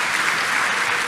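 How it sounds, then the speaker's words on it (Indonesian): Steady, dense applause from a church congregation during a sermon, filling the whole short moment at an even level with no voices over it. "Tepuk tangan yang paling meriah buat."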